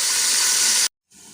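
Chicken frying with ginger and garlic for a vegetable pulao gives off a loud, steady hiss that cuts off abruptly, then returns more faintly after a short silence.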